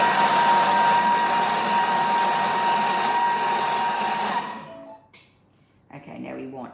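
A Thermomix mashing bananas at speed 6, a loud steady motor whir that runs about four seconds, then spins down and stops before a voice speaks.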